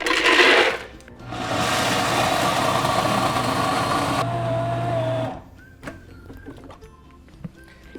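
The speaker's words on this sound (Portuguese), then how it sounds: "Deixa a amêndoa batendo lá um tempo até que ela se transforme nessa farinha fina." A blender grinds fresh almonds into fine almond flour, with a brief loud pulse, then a long steady whirring run of several seconds. The motor cuts off and leaves faint kitchen sounds.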